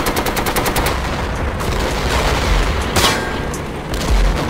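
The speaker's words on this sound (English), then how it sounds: "Someone shot you with a machine gun." Rapid machine gun bursts in the World War II shooter Darkest Hour 44-45, a fast rattling string of shots up front, then heavier scattered gunfire and booms continuing loudly without pause.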